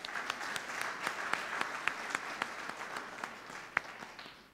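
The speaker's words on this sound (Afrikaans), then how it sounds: "Ek kan vir haar 'n lekker hande klap gee asseblief." A church congregation applauds at a confirmation service, a steady close round of hand clapping with distinct individual claps over a dense wash.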